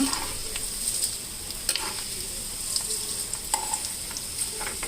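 Urad dal sizzling and crackling steadily in hot oil, with a few sharp pops and faint stirring scrapes.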